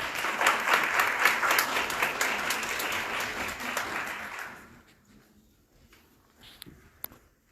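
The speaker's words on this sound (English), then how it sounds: "Round of applause." Audience applause at the 5th Annual Living Legends Award Ceremony: a full room claps loudly for about four seconds, then fades to scattered claps and quiet, with a single sharp knock near the end.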